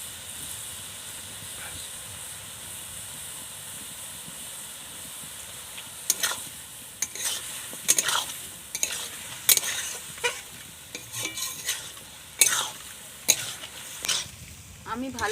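Chicken chow mein with tomato sauce stir-fried in a pan: a constant sizzle at first, then repeated loud scraping stirs in irregular bursts over the hiss, close up.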